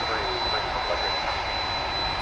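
A jet aircraft at DFW Airport, a DHL cargo flight, gives a steady, moderately distant engine roar with a high whine running through it, broad and unbroken throughout.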